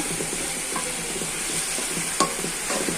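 Soft ridge gourd (dhundul) being sautéed in a pan, a constant close sizzle with light stirring taps and one sharper clink of the spoon against the pan.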